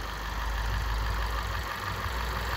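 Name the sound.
knocking of intake manifold swirl flaps in car engine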